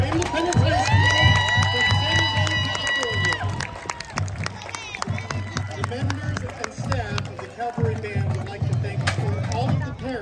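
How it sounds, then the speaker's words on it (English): A crowd at a high school marching band event cheers and claps, with whoops, shouts and a loud low rumble of feet and movement, fairly close and sustained throughout while voices call out over it. "Ladies and gentlemen, another round of applause for Independence High School."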